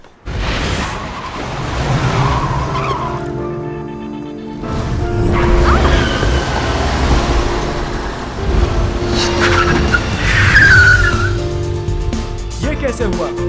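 A car skids as it parks itself in a dramatic TV scene, a loud, continuous rush of engine and tire noise swelling and fading over a background of music and effects, with no talk.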